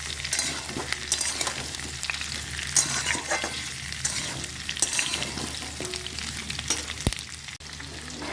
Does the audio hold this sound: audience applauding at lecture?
no